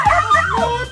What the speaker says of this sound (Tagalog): Rottweiler.